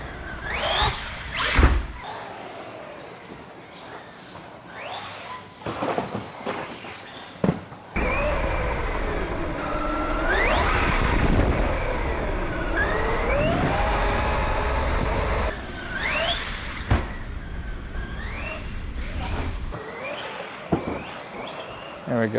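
Arrma Senton 223S and Traxxas Slash 4x4 VXL RC short course trucks drive hard, their electric motors whining in rising and falling sweeps with bumps, squeals and bursts of loud rumble over an uneven stretch.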